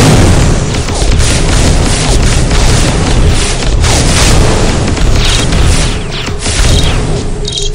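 A grenade explodes in a video game with a loud, sustained booming roar that fills the whole stretch and stays dense and rumbling, with small crackling bursts near the end.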